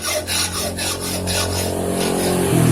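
Hand saw cutting through a worn engine oil drain bolt, with steady back-and-forth strokes rasping in a fast, even rhythm. The sawing is close and continuous, with no talk.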